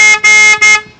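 Three quick blasts of a Dodge SRT-4's regular car horn, loud and close, the last one trailing off.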